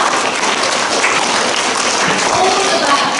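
An assembly audience gives a Hungarian language department a big round of applause: dense, continuous clapping from many hands fills the hall at a steady, loud level throughout.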